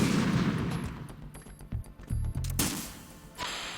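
Gunfire from the video game Metal Gear Solid 2, loud bursts of shots and heavy booming impacts in quick irregular succession, with a dense rattling stretch near the middle and game sound throughout.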